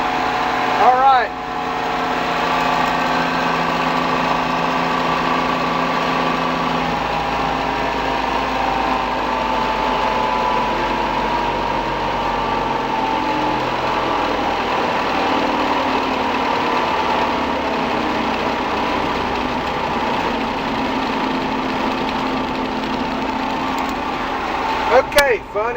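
A John Deere 3300 combine with a weak battery has its engine cranked and brought up to a steady, rumbling idle that drones on close by for the whole stretch, with a higher mechanical whine layered over the low throb.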